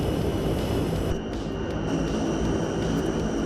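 Fokker F27 turboprop engines idling while taxiing in Microsoft Flight Simulator 2024, a steady loud droning hum with a constant high whine, unbroken for the whole stretch.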